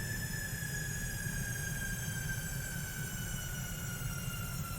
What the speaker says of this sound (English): And there's the tram.